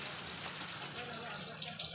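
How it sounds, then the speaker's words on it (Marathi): Rain falls steadily on a metal sheet roof at a village house, a dense hiss of drops, with people talking nearby. "मस्त पाऊस"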